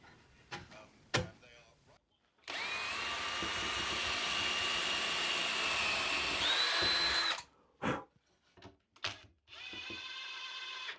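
A power drill drives screws into glued wooden joints of a bandsaw stand frame, one long steady whine lasting about five seconds, followed by a few knocks and a shorter burst of drilling.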